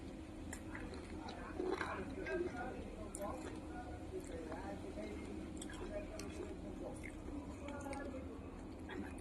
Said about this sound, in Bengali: লবণ দিয়ে আম মাখা করে খাচ্ছি